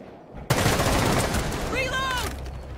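Automatic gunfire in Rainbow Six Siege erupts in a loud, sustained close-range burst of rapid shots, with a short voice cutting in briefly partway through.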